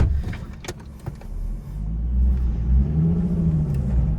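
A Nissan 350Z sports car rated at 313 hp accelerates on a road near an airport, heard from the passenger seat as a deep, loud engine rumble that builds and rises in pitch through the second half.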